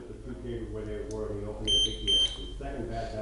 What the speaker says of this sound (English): if you hear this beeping sound and the scooter does not drive, that means we are in neutral